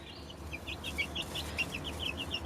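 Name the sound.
chickens and baby chicks clucking in chicken house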